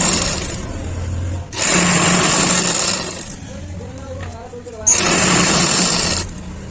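A sewing machine double-stitches elastic into a pair of pants in loud bursts, running about one and a half seconds, pausing, then running again, with someone talking throughout.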